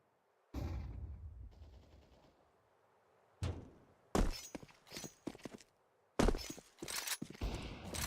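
A flashbang grenade bursts in Counter-Strike 2 with a loud sharp bang and ringing decay, followed by several more sharp bursts of in-game impacts and gunfire.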